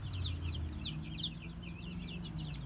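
Leghorn hens clucking among a flock of chickens, a series of short repeated clucks over a low steady background hum, fairly faint and distant.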